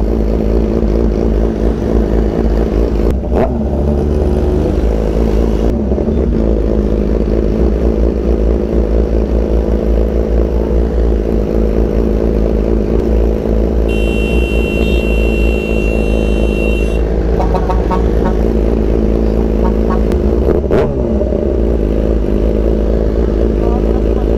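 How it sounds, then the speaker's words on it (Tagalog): A motorcycle engine rumbles steadily and loudly throughout, with a crackly, throaty exhaust note and occasional revs, alongside some background clatter. "Lutong talaga ng tambutso nito ni Ron Jake"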